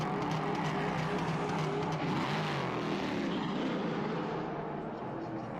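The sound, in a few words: prototype race car leaving the pit lane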